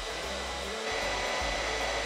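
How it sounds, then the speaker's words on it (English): A hair dryer powered from a Delta EcoFlow battery station runs on high, a loud, steady blowing whoosh with a constant motor hum close by, with no talking. "We get the hair dryer from the Delta EcoFlow."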